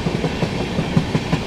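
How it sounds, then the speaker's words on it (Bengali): Train wheels clacking over rail joints at Kamarkundu railway station, a steady moderately loud rhythmic clatter with periodic thumps and no talk. "ট্রেন আমাদের এসে পৌঁছালো কামারকুণ্ডু রেলওয়ে স্টেশন"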